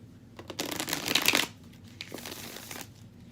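A deck of animal-themed tarot cards is shuffled up close, with brisk riffling bursts and softer rustles in between.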